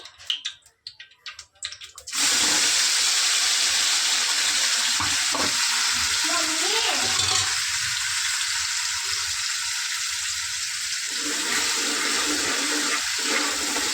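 Near silence, then a ground spice paste (vatan) for mutton hits hot oil and bursts into a loud, continuous frying hiss that holds steady to the end.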